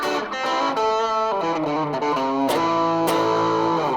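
Electric guitar played through a Pro Co Rat distortion pedal with the distortion turned low and the filter knob set, giving loud sustained chords and notes that change every half second or so, alone with no talk.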